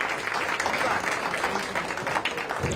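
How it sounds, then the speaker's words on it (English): Crowd applause at a pool match during the Kansas City Shootout, a steady dense wash of clapping that holds at an even level for a few seconds with no distinct voices. "the crowd showing their appreciation for the performance"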